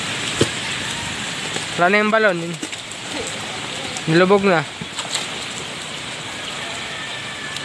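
Heavy rain falls steadily during a flood, a dense continuous hiss close around, with two short spoken phrases over it.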